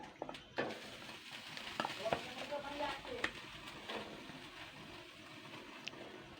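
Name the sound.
fish heads frying and sizzling in hot oil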